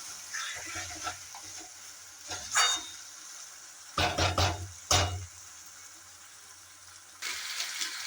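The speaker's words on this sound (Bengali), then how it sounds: "মাংস দিয়ে এবার কিছুক্ষণ কষাবো।" Mutton pieces frying in a pan for curry, a steady sizzle broken by scraping stir strokes, with a cluster of louder spatula scrapes midway and a burst of fresh sizzling near the end.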